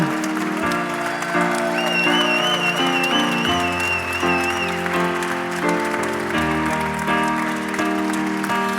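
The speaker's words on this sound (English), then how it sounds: "Please give them a round of applause" An audience at a festival closing ceremony applauds the Ada team gathering on stage, continuous clapping blended under loud music with sustained tones and a high warbling melody.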